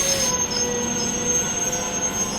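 The Kondaveedu Express, running from Yesvantpur to Machilipatnam, rolls along the rails with a steady low rumble and thin, high wheel squeal, heard from on board.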